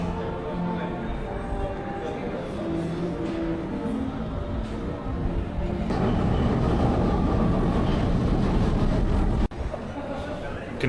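Vienna metro train running steadily at close range, a loud continuous rumble that grows heavier about halfway through, with voices talking over it.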